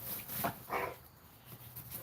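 A cane corso puppy whimpers outdoors, with two short, thin cries close by, followed by quieter soft background noise.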